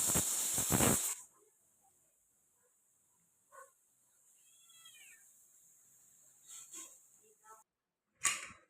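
A pressure cooker of peas on a stove lets off a loud burst of hissing steam, then a thinner, steady high whistle-hiss that runs for several seconds before stopping, followed by a short final puff.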